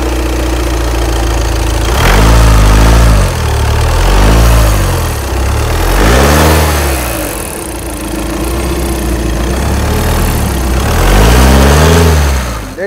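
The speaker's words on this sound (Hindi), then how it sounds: "गाड़ी का इंजन का आपको साउंड सुनाता हूँ" A 2013 Audi A4 2.0 TDI diesel engine runs loud and close, idling with a steady rumble and revving up and back down several times in repeated surges.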